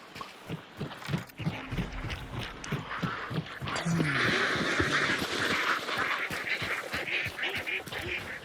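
Ducks quacking in the video game Hunt: Showdown 1896, a flurry of repeated quacks and honks over a noisy game scene, rising into a louder, steadier din partway through.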